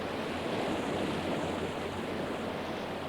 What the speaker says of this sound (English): a mighty waterfall tumbled out of the darkness above with a loud roar